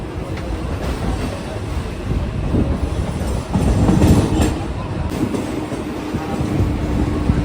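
A train at Churchgate station in Mumbai gives a steady, loud rolling rumble with rail clatter that swells briefly near the middle and continues throughout.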